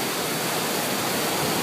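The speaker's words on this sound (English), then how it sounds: "That's crashing waves." Large ocean waves crashing on a shore, heard as a dense, unbroken roar of surf filling the whole moment at close range, with no speech.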